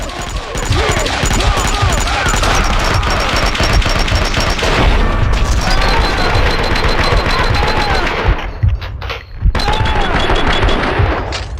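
Sustained video game gunfire from Max Payne 2, dense bursts of automatic and single shots rattling continuously with booming impacts, loud throughout with a brief lull near the end before firing resumes.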